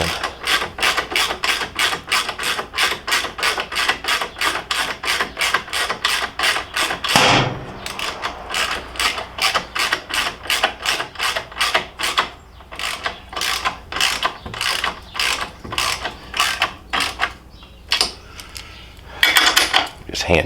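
Crash bar bolts on a 2020 Indian Challenger motorcycle are hand-tightened with a ratchet, giving rapid, continuous metallic clicking in bursts, close and loud, with brief pauses.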